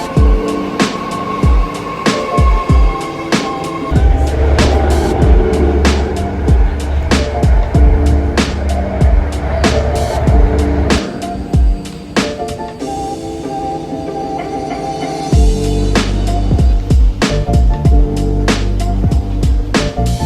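Train pulling into a station platform during a trip to San Francisco's Japantown, with strong low rumble, repeated sharp clanks and squeals, and steady loud mechanical noise building and easing over about twenty seconds.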